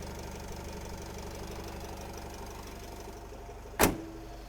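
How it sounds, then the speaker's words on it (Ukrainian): A cold 2012 Opel Vivaro van's 2.0-litre engine idles steadily with a low, even rumble and light ticking; a brief sharp click sounds near the end. "роботу мотора все одно чути, що він ідеальний"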